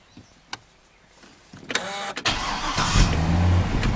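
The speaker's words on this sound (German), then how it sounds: "Jetzt muss den Motor mal starten." A Corvette C6 V8 is started: a few faint clicks and a brief whir, then the starter cranks and the engine catches into a loud, deep rumbling idle close by.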